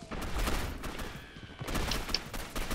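Sustained rapid gunfire in the video game Gotham City Impostors, a dense, steady stream of shots with a few brighter pops over a busy, noisy background.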